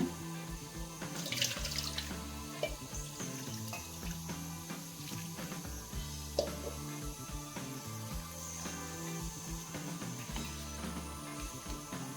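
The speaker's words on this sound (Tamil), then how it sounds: "கொஞ்சோண்டு தண்ணி விட்டுக்கலாங்க" Water runs steadily from a tap into a metal cooking pot of sambar, splashing and clinking against the vessel, with small knocks and bumps along the way.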